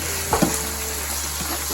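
Jollof rice mixture with olives and mixed vegetables stirred in a pot over a gas flame, a soft scrape of the spoon over a low, steady sizzle with a constant background hum.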